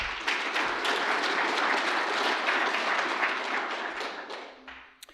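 Audience at an international construction management conference giving a round of applause for students, a full burst of many hands clapping that holds steady and then tapers off at the end.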